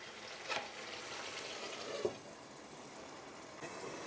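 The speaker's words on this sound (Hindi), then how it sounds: "2 मिनट हो गए मसाले के साथ बैंगन को भूनते हुए" Eggplant frying with spices in a pan over a low gas flame, giving a quiet, steady sizzle with a few soft clinks of stirring.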